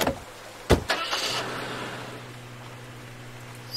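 In the Nancy Drew video game, a car door thuds shut, then the engine cranks and starts, settling into a steady low idle hum that carries on to the end.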